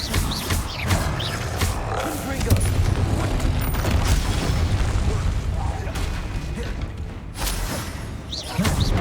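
A Confringo blasting spell explodes during combat in Hogwarts Legacy, a fantasy video game played on PS5, giving heavy booms and rumbling blasts over dense, continuous battle noise.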